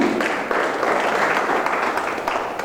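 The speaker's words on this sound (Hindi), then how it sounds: "उनको एक बार मेरी जोरदार तालियां" Hindi Diwas event audience breaks into hearty applause, a continuous even roar of many hands clapping at moderate loudness, steady throughout without speech.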